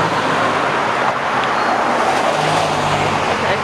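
A car rushes past on the road at dawn on a summer morning, a loud, steady broadband roar of tires and engine that swells slightly without a clear fade.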